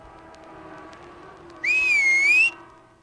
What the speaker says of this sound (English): King Gerard loved to hear him whistle with his fingers in his mouth